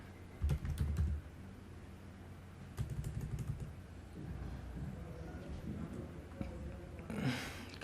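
Keys clatter on a computer keyboard in quick, close bursts of typing, followed by quieter stretches of soft room noise and a faint swell near the end.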